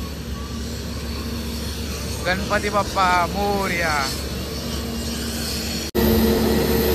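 An airplane at Sindhudurg airport gives a steady, loud engine roar throughout. Voices chant briefly over it.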